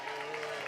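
An audience at a live fan Q&A event claps briefly for a guest being handed the mic, a short burst of applause and crowd noise.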